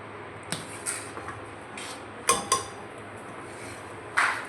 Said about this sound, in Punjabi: ਇਧਰ ਆਪਾਂ ਜਿਹੜੇ ਆਲੂ ਆ ਇਹ ਪਾ ਦਈਏ ਪਹਿਲਾਂ ਤੜਕੇ ਦੇ ਵਿੱਚ